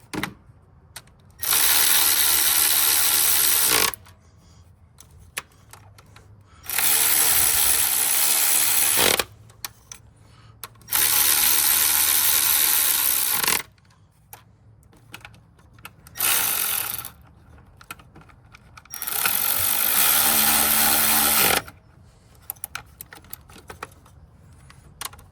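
A ratchet tightens valve cover bolts on a 2010 Toyota Corolla in five close, loud bursts of rapid clicking, each a few seconds long, separated by quiet pauses with faint clinks.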